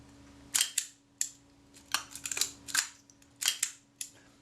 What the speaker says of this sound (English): There's nothing wrong with the shutter speed, but it's slow to fire.